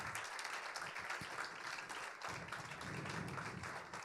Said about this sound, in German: da sind die Leute frenetisch am Klatschen